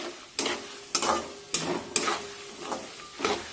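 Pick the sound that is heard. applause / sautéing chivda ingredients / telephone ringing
sautéing chivda ingredients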